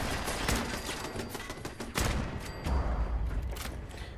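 Rapid bursts of gunfire from a shell-firing gun in Fallout 4, loud and dense, with sharp repeated shots and booming low-end impacts layered over continuous battle noise, no talking.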